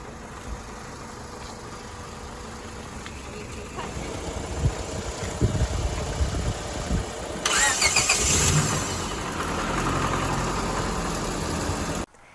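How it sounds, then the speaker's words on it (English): A dead car's engine, boosted by a battery jumper pack, turns over and catches after a few seconds of quiet shuffling, then settles into a steady close idle before cutting off. "then we're going to start the dead car"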